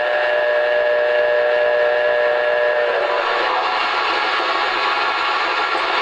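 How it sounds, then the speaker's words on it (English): An MTH Santa Fe 2-10-4 Texas model steam locomotive sounds a loud, sustained chime whistle with several steady tones. The whistle gives way after about three seconds to a hissing steam rush. "Here's the whistle."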